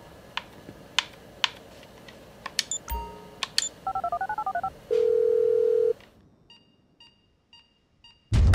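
Telephone keypad dialing in GTA 5 on Xbox One: a rapid run of DTMF beeps, a steady tone, then distant ringing tones over faint game ambience, with a low thump at the end.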